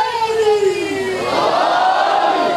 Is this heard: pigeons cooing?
no